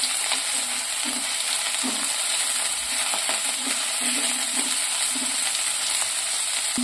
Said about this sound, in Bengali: এইগুলোকে একটু তেলের মধ্যে ভেজে নিচ্ছি